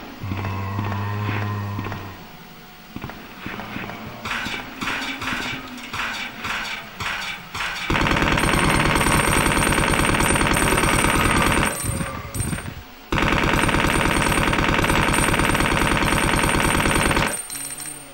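Rapid, loud bursts of automatic gunfire from a powerful weapon in a video game, long sustained volleys with short breaks, mixed with clattering mechanical game sounds and no speech.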